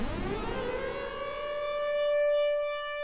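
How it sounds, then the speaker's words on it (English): Synth wavetable effect patch from a mathematical-series wavetable set, like a dub siren: a rising pitched tone sweeps up from a noisy start and settles into a steady, bright sustained note with strong harmonics, loud and alone. "That could be like a dub siren or something."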